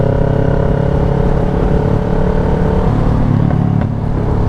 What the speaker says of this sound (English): I would take the sound of this exhaust over 5 extra miles per gallon